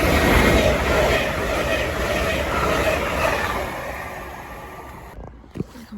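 A Lincoln to London King's Cross passenger train rushing through Welwyn North station, a loud broadband roar that gradually fades and ends abruptly, with a voice speaking over it.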